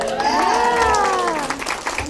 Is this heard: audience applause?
yes